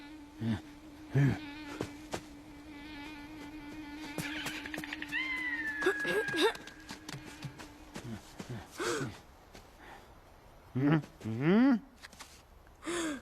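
A cat meows in the animated movie Robinson Crusoe, with a few short rising cries that are loudest near the end, heard among gasps, breaths and other scattered vocal sounds.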